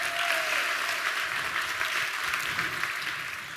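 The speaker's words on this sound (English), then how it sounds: "Give yourselves a round of applause for being here." A large crowd of about 550 women at a conference applauds themselves, a broad, steady wash of clapping heard from a distance that fades slightly toward the end.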